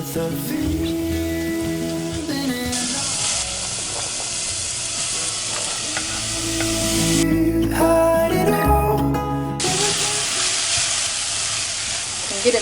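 Ingredients sizzle in sesame oil in a pan while preparing thick soybean paste stew, a loud, close hiss that rises and falls, mixed with faint clatter.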